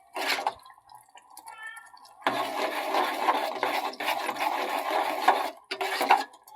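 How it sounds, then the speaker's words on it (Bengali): Aloe vera gel being stirred in oil, close wet scraping and rubbing strokes in uneven bursts with short pauses between them. "ভালো করে জেলটা আলাদা হওয়ার জন্য ভালো করে এইভাবে নাড়তে হবে।"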